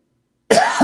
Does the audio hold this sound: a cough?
yes